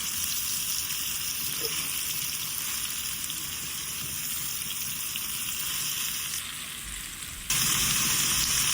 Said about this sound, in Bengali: তারপরে পরে আমরা ওই কাটা ঢেঁড়সগুলো দিয়ে দিলাম, ভালো করে একটু নেড়ে চেড়ে নিব।